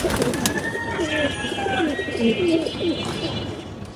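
Pigeons coo steadily inside a loft where senior male birds are kept locked in during moulting, several overlapping throaty coos close by with a few faint chirps behind.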